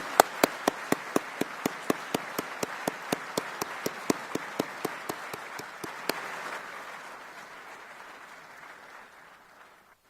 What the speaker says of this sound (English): please join me in a round of applause for these exceptional Marines